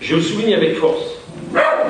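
A dog barks a few times at a public meeting in a hall, short yelping barks mixed in with someone speaking French into a microphone.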